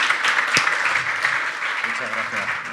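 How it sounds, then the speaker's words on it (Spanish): Applause from the audience at an air traffic control automation workshop, a steady wash of clapping over a bright room tone, with one sharp louder clap standing out early on. "Muchísimas gracias, un fuerte aplauso."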